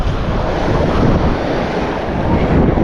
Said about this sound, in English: it's a little tricky with all this wind rippling the water